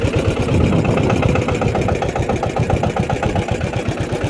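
A farm tractor's engine runs loud and close, with a steady rapid diesel chug that pulses evenly and eases slightly toward the end, and no one speaks.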